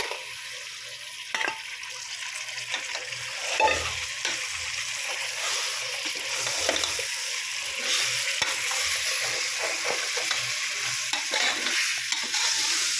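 Mutton being stirred and fried in a pot for biryani, a steady low sizzle with scattered scrapes and knocks of the spoon, close and continuous without talk.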